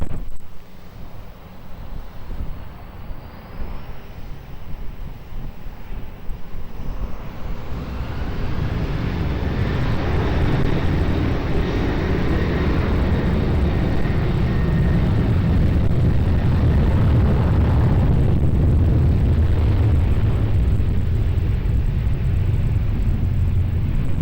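An airliner taking off from runway 20 at Lisbon Airport, its engine roar building from a distant rumble into a loud, sustained broadband thunder with wind buffeting the microphone, no voices present.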